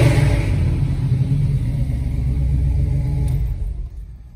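A 1969 Camaro V8 heard from inside the car, a deep steady rumble with engine revving held at a loud level before fading toward the end.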